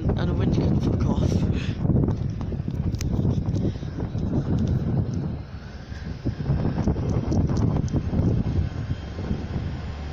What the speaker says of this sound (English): And the wind, and the wind you can fuck off.